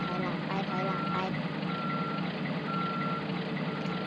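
Truck reversing alarm in the Wrecking Ball Truck game at a construction site with an excavator, sounding a few evenly spaced high beeps over steady game music, with a person talking over it.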